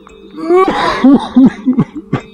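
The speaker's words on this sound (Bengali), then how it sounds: "কে ওখানে বসে অসুস্থ মানুষের মতো কাশি দিচ্ছে?" An ailing old man coughs in a village fairy-tale scene: a burst of several harsh, voiced coughs in quick succession, close and loud, ending in short throaty hacks.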